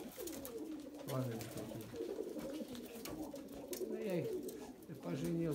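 Pigeons coo steadily at a dovecote, the birds a white-pigeon crossbreed, their low rolling calls continuous and close throughout while someone speaks briefly over them.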